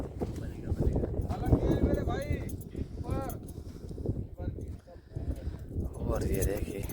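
A fully black horse named Malang, with two white legs, clip-clops along on hooves in Kutch while someone talks continuously over the steady rhythmic hoofbeats.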